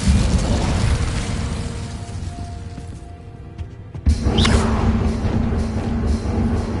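An Incendio fire spell cast in Hogwarts Legacy: a loud, sustained rushing roar of flame that eases briefly, then a sharp crash-like burst reignites the blaze at full strength.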